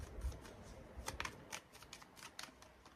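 Tarot cards are riffled and shuffled softly and close by, a quick papery flutter repeating in small bursts over a low background hum.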